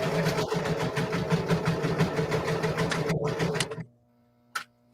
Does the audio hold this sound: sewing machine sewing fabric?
yes